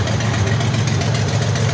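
A 1977 Datsun 280Z with a rebuilt L30 engine on Solex 50 carburetors idles steadily up close, its brand-new clutch fan whirring hard in a constant low rumble with no break.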